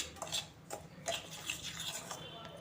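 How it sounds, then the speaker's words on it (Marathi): A spoon clinking and scraping around a bowl while oil and powdered sugar are mixed for a no-oven chocolate cake, a quick irregular run of light metallic taps and scrapes, close and quiet. "हे आता आपल्याला व्यवस्थित मिक्स करून घ्यायचं आहे"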